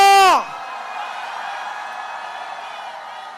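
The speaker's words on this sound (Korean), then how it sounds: "함성" A crowd at an outdoor election rally in heavy rain in Suncheon cheers and roars as a sustained wash of voices, following a brief rising synthetic whoop at the start.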